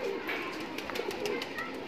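Kalsara Makao pigeons in a loft give soft, low cooing calls, steady and close, with a faint voice talking in the background.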